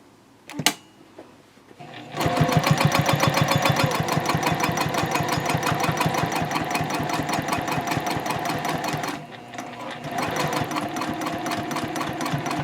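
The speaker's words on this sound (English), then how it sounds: "And I do like to backstitch at the end." A sewing machine stitches a bowler bag in a long, fast, rhythmic burst of needle clatter, close and loud, with a brief pause partway before resuming; a few handling clicks come first.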